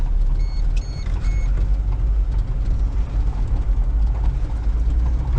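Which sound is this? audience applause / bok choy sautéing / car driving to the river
car driving to the river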